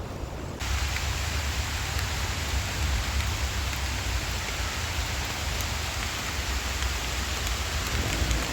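Rain sets in during a walk in Boca Raton, a steady broadband hiss of falling drops that holds level and close throughout, over a low outdoor rumble.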